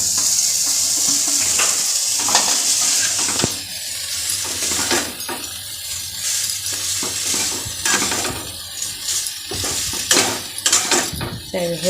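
Boiled Maggi noodles frying in a pan, giving a continuous sizzle with scraping and stirring strokes against the metal at close range, while a voice talks faintly in the background.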